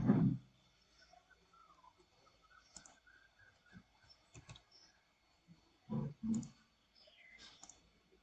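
Computer mouse clicks at a desk, a few faint, sparse clicks spread out in a quiet room.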